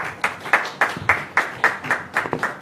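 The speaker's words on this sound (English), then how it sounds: "I think Dr. Osman deserves another round of applause." An audience at an electoral commission event gives a round of applause after a speech. The clapping comes as rhythmic, fairly loud bursts with no talking over it.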